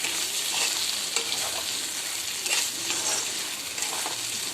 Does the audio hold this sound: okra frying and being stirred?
yes